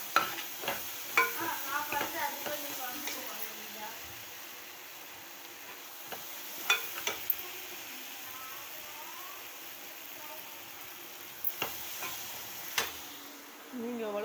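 A tamarind and chili gravy coming to a boil in a pot gives a low, steady bubbling hiss, marked by occasional sharp clicks of a utensil against the pot, with a faint voice early on.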